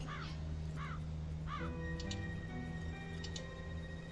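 A crow in the video game Black Mirror 2 caws three times in quick succession, fairly close and distinct, over a steady ticking clock and a low ambient hum.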